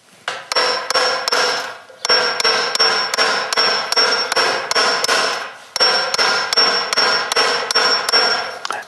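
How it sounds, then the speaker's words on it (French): Coppersmith raising a piece of copper with a thick raising hammer, rapid, steady ringing metallic blows in three long runs with brief pauses, loud and close, no voices. "Je me sers d'un marteau à rétreinte, j'en ai pris un qui est assez épais pour emporter beaucoup de métal en même temps."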